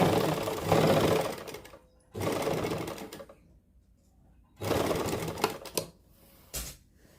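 An electric sewing machine stitches lace onto the slit and hem of a suit, running in three steady whirring bursts separated by quiet pauses, close and fairly loud.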